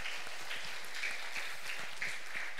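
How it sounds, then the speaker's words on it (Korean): A church congregation at an Easter service applauds a visiting missionary, with soft, steady, fairly distant clapping that carries on evenly throughout. "우리 선교사님께 한번 박수했으면 좋겠습니다"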